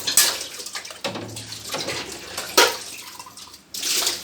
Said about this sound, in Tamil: பாத்திரத்தை வந்து லைட்டாக அலசி வைக்கணும்